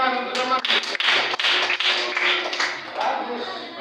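Classroom students break into a burst of clapping for a classmate, dense, overlapping hand claps filling several seconds at close range, with some voices mixed in.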